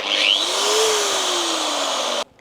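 A Crown CT13677 angle grinder runs loudly at full speed, with a high, steady motor whine that drifts slightly in pitch before cutting off abruptly near the end.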